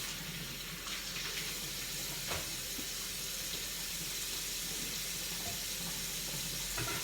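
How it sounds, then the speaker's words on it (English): Tap water runs steadily into a sink while bags are rinsed under it, a constant close splashing hiss with small shifts as the bags move through the stream. "I'm going to rinse them, and then I'm going to wipe them off with a towel"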